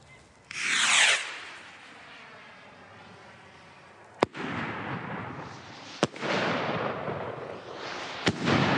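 A firework rocket launches from a rocket rack with a sharp whooshing hiss, followed by a steady roaring rush broken by several sharp cracks and pops, loud and close.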